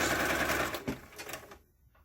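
A sewing machine stitches along the folded edge of a fabric mask tie, a steady close whirr that stops short near the end, leaving near silence.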